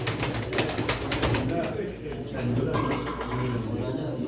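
Pigeons at a pigeon auction in Çorum, with bird sounds and scattered flapping or scuffling close by, mixed under steady crowd chatter and an auctioneer's voice.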